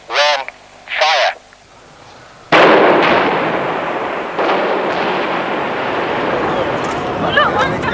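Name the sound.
Poole power station demolition explosion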